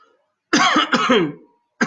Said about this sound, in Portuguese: Ainda fiquei com tosse